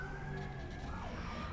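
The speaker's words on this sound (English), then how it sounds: "There's a beautiful siren outside, by the way." An emergency vehicle siren passes outside, its wavering tone fairly loud but somewhat distant and muffled by walls, with general background noise around it.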